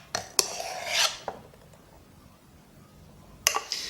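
A spoon scrapes and taps against a jug while scooping dry, stiff milk foam frothed by a DeLonghi Dedica espresso machine, a few brief close scraping strokes separated by quiet gaps.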